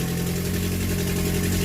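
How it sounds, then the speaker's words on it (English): A 2014 Chevy Equinox 2.4 engine with an exhaust leak idles steadily with a low rumbling drone and a slightly rough, puffing undertone. "You got an exhaust leak up under there."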